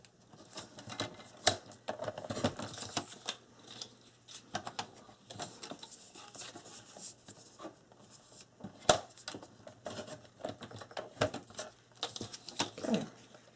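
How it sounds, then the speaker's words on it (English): Paper strips sliced on a paper trimmer while building a Graphic 45 secretary desk box, heard as a run of close, dry clicks, scrapes and crisp cutting strokes, with brief sharp snaps scattered throughout. "So I'm going to just cut those on the trimmer."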